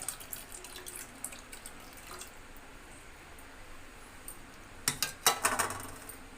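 Soaked tamarind juice is poured into a pot of horse gram soup, making a soft, close splashing trickle with scattered drips that grows into a brief burst of splashing near the end.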